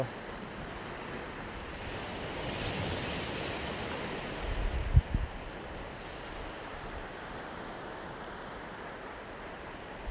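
Sea waves wash steadily against the rocky shore near the lighthouse at Jafrabad, a continuous rushing surf mixed with wind noise and one brief thump midway.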